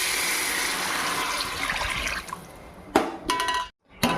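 Water poured into soaked rice for Hyderabadi bagara rice, a steady splashing pour that stops sharply, followed by a few brief splashes and a short second pour, close up with no talk.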